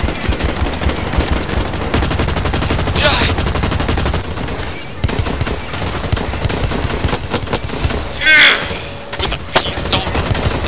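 Automatic weapons in the shooter Blacklight Retribution fire in sustained, loud rapid bursts, a dense crackle of close and distant shots running almost nonstop, with a few brief whooshing effects mixed in.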